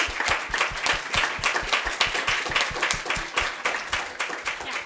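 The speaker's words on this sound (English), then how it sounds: "So can we give Bobby a big round of applause?" Audience applause at the end of a conference talk, a moderately sized group clapping in a fairly rhythmic, pulsing pattern with distinct individual claps, steady throughout and without speech.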